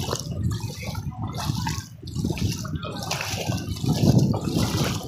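Heavy monsoon rain pours in a village basti in Ahmedabad, a dense, uneven wash of falling and running water that holds steady and swells toward the end, close and continuous.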